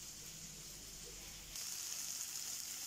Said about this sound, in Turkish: Kızgın yağ içerisine patlıcanlarımı bırakıyorum